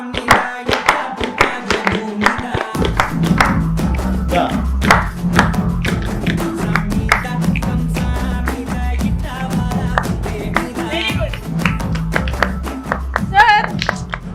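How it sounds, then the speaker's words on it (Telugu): Children and adults clap along in a brisk, regular rhythm over music, sharp and close, with voices talking and calling out over the beat. "క్లాప్ చేయండి bro, clap. Everybody children clap."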